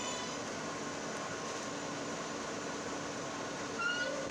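An R143 subway train on the M shuttle idles at Metropolitan Avenue, Middle Village, its last stop, with a steady rumbling, whirring hum and faint rail noise, no talking.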